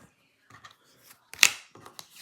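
Supplemental cards for the Enemy Action Ardennes board game being shuffled one-handed, heard as one sharp papery riffle burst with a few soft card clicks and rustles before and after.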